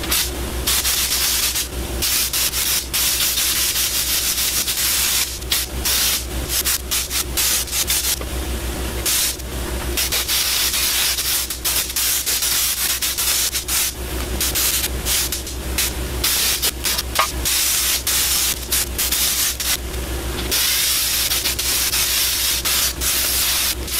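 Raptor liner sprayed onto a Melex golf cart, a loud steady hissing spray running for the full length, broken by a few short pauses in the spray.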